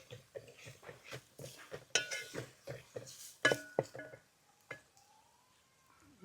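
Turmeric, pepper, fenugreek, asafoetida, salt and chilli powders for Kerala-style fish pickle stirred together in a bowl: rapid rhythmic scraping clinks of a spoon against the dish, close and steady, then slowing to a few isolated taps.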